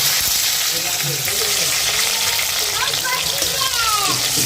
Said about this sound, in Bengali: টমেটোটা দিয়ে একটু কষিয়ে নেওয়া হচ্ছে